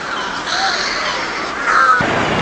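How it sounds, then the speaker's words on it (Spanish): Crows caw repeatedly at close range, harsh calls running through the whole short stretch with no talk. "También lo gritan los pájaros."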